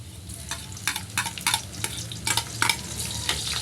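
Onions fry in a pan for an adobo dish, with a constant sizzle beneath repeated sharp scrapes and clanks of stirring, close and fairly loud, with no voices.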